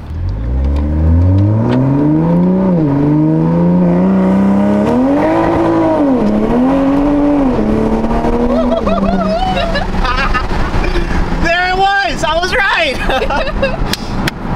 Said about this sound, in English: So rolling anti-lag might work this time.